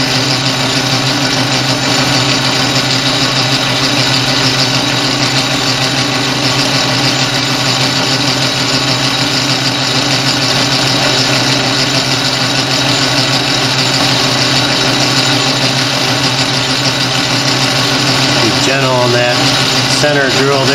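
Metal lathe center drilling a part for a mini propane burner, a steady loud motor drone with constant machining hum throughout and a brief voice near the end.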